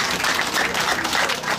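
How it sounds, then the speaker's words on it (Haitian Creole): A short stretch of dense, loud audience applause at an official day event, a steady wash of many hands clapping together with no pauses. "La demande de public, s'il vous plaît, applaudit l'organisation OPPD"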